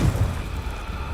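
The Confringo fire spell in the Hogwarts Legacy video game bursts as a loud, deep, rumbling explosion that hits at once and then roars and crackles on.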